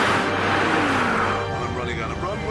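A Mercedes convertible accelerating hard at very high speed, a steady roaring engine with heavy wind rush filling the sound, the drone easing slightly toward the end.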